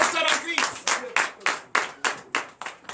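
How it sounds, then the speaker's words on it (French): Church congregation clapping and acclaiming Jesus, with loud, regular claps about every third of a second over crowd voices and cheering, strong and close. "Donnez encore de l'acclamation au Seigneur"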